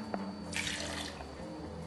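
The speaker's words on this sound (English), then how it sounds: "This is half a cup of water." Half a cup of water pours for a butter toffee mixture, a brief soft splashing rush lasting about half a second, faint and close, with no speech.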